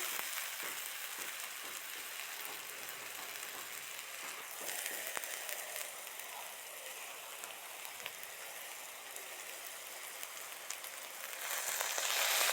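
Mutton for a curry sautéing in a pan, a soft steady sizzle and spatter with occasional stirring clicks, faint and continuous, growing a little louder near the end.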